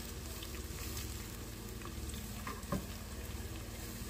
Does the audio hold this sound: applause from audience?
no